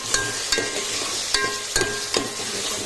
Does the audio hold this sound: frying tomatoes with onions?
yes